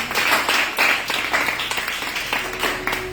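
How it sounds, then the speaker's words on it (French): Church congregation applauding, dense continuous clapping with some cheering, loud and close, sustained throughout with no clear pause. "Acclamons le Seigneur pour la parole"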